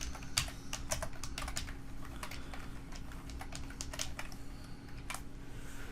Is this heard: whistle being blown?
no